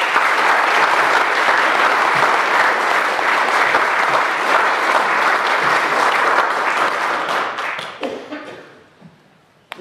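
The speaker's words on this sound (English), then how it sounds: "express our appreciation again in a round of applause" A large audience at a society's anniversary meeting breaks into loud, sustained applause, a dense wash of many hands clapping that holds steady and then fades out over the last couple of seconds.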